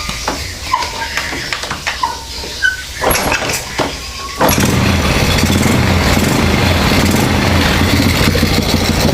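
A Honda Supra motorcycle engine is kicked over a few times with clicks and thuds, then catches at about four seconds and settles into a steady, close idle with a hollow carburetor intake note.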